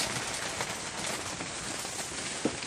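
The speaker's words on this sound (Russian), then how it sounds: "Град, дождь." Rain mixed with hail falls outside a small shelter booth during a sudden gusty storm, a dense, even patter drumming on the surface all around, with one sharper knock near the end.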